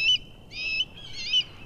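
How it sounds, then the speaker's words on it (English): Loud, close bird calls from a video game: three bright, warbling chirps in succession, each burst separated by a short pause, with no talk over them. "That was a very loud bird."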